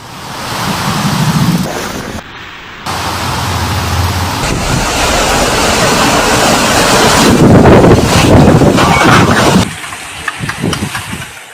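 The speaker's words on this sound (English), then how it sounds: "The winds reached unusual intensity" Powerful storm gusts in eastern Spain roar and buffet the microphone, a loud, continuous rushing blast that swells and surges over about eleven seconds, with sharp dropouts and crackling bursts near the end.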